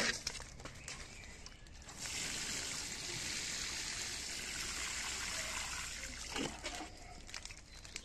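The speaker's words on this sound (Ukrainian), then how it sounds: "Все, після цього я пролью водою." Water poured onto soil around a newly planted rhododendron in a garden, a soft steady trickling and splashing that runs for several seconds, quiet and close, with faint handling noises before and after.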